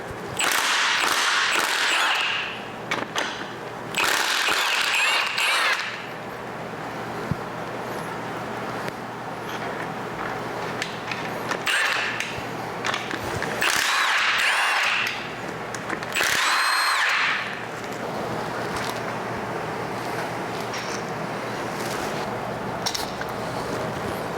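Main cap bolts, 17 mm, being loosened on a disassembled BMW S38B36 engine from a 1992 E34 M5: loud, close bursts of a whirring power tool, several seconds each, separated by quieter shop noise and occasional metallic clicks.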